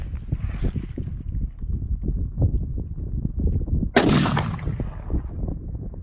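A rifle fitted with a Pent System Sentinel upgrade kit fires a single sharp, loud shot that cracks out after several seconds of low handling and background rumble, followed by a brief fading tail.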